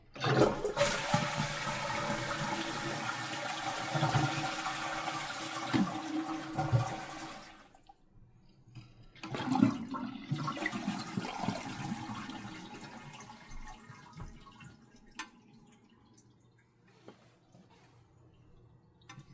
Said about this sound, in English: we're going to flush the toilet here to get the water out of the tank.